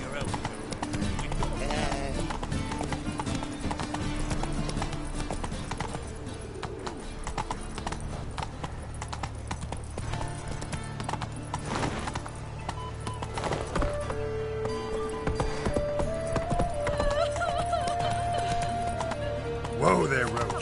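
Roach, the horse in The Witcher 3, trots along with a steady rhythmic clip-clop of hooves beneath game music and a voice, a brief whinny-like tone rising near the end.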